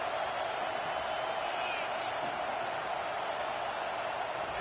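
Steady stadium crowd roar fills a college football video game, Miami versus Michigan, a broad continuous wash of cheering held at an even level throughout.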